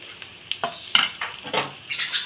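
Split chickpeas (chana dal) frying in hot oil give off soft, uneven sizzling with stirring scrapes and small crackling bursts, close and fairly quiet, with no voices.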